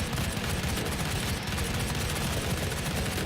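Rapid gunfire from the video game Final Doom rattles on without a break, dense and loud, a continuous barrage of shots filling the whole short stretch.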